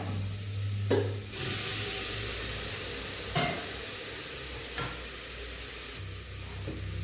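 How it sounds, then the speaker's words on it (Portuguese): Soy meat sautéing in a pressure cooker, with a loud, steady sizzle and hiss close by and a few sharp scraping stirs, no talking. "Eu vou pegar a soja e já vou colocar aqui para ir refogando na panela de pressão."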